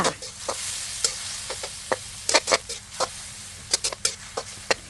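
Mock meat or tofu stir-fried with a splash of water for a vegetarian red curry stir-fry, close sizzling broken by quick, sharp spatula scrapes in an uneven rhythm, with no voices.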